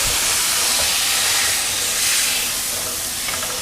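Meat searing in a hot pan before going into a crock pot for Italian sandwiches: a loud, close, unbroken hiss that holds steady throughout, with no voices.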